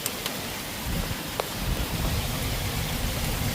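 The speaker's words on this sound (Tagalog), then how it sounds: "Ayan, no, nako, lakas ng ulan." Heavy rain falls at night during a thunderstorm in Canada, a dense, steady hiss of downpour with occasional brief spatters and low rumbling gusts, with no voices.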